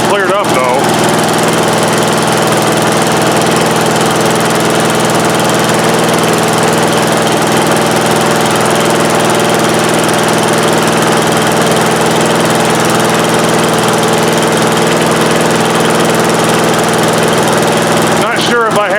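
A Briggs and Stratton 12.5 HP engine runs steadily and loudly at a constant throttle for the whole stretch, a continuous close-up mechanical drone with no pauses and no talking over it.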